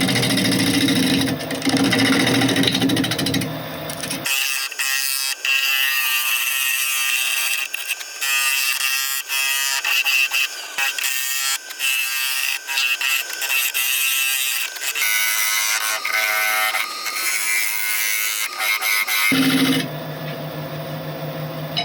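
Wood lathe turning a wooden bowl blank, a steady high-pitched whine with scraping tool cuts, loud and continuous, with a harsher broadband rasp at the start and end.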